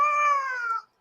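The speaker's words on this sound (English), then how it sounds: "I hear a cat." A cat gives a single clear, close meow lasting just under a second, alone with no talk.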